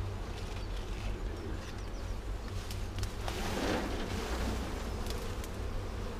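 Honey bees buzzing loudly around a hive as a frame is lifted out and shaken during a honey harvest, a thick continuous drone close by with no talk.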